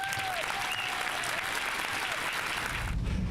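A crowd claps steadily and loudly at a drag racing Hall of Fame ceremony, applauding an honoree as he is welcomed, a dense sustained ovation that eases slightly at the end.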